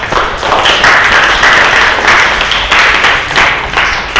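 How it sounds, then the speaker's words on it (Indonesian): A class of students claps steadily for classmates who asked questions during a school arts lesson, a dense, loud patter of many hands lasting several seconds without talk. "Kita beri tepuk tangan untuk yang tadi bertanya."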